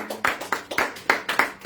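A church congregation claps in a steady rhythm, roughly three claps per second, with sharp, bright, even hand claps sounding fairly close and with no talking over them.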